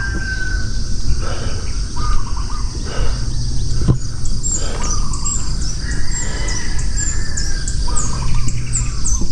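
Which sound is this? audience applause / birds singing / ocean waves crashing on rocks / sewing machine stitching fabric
birds singing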